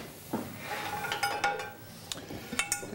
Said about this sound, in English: Let's get a saute pan.